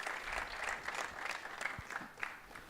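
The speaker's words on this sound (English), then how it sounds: "Let's have a round of applause for Julia and that presentation." Audience applause at a live sports-innovation talk event, a steady wash of clapping from a mid-sized crowd with a few sharper claps standing out, sustained through the whole stretch.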